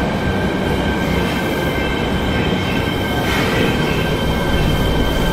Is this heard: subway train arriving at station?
yes